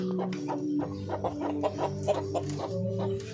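Breeder chickens cluck close by in a repeated, overlapping series of short calls, with a steady low hum behind them.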